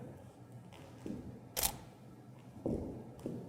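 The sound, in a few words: Canon camera shutter firing 600EX-RT speedlites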